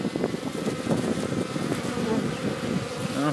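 Honeybees buzz steadily inside a nucleus box, a dense close-up hum with a large drone among them, continuous and fairly loud throughout.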